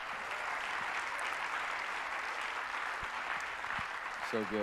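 A church congregation applauds a pastor in a steady, sustained round of clapping that fills the room, with a voice briefly heard at the very end.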